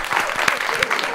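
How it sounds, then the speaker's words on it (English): Applause and cheering from a group of players in a late-night Counter-Strike: Global Offensive voice chat, a steady compressed clatter of claps with voices mixed in. "Guys, come on, a round of applause."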